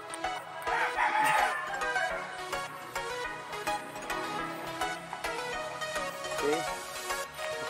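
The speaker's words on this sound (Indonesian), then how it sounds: "Oh, ada ayam ya." Chickens on a boar farm in Kalimantan crow and cluck nearby, a loud rooster call rising early and more fowl chatter continuing throughout, with rhythmic ticking in the background.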